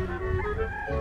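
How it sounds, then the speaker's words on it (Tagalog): Chickens cluck at a game farm housing white fowl, a short burst of close, layered clucking with a low murmur of background noise. "Ito yung mga manok nila."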